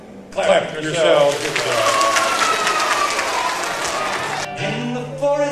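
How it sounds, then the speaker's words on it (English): Audience clapping at a live children's song performance: a dense, steady burst of applause that swells in and holds for about four seconds before cutting off, with voices heard over it. "Clap for yourself"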